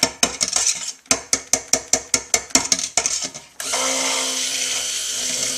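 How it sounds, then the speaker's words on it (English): Blender pulsing cold process soap batter: about a dozen sharp, evenly spaced motor bursts, then a steady, loud whir of continuous blending to the end. "I'm going to burp my blender a little bit."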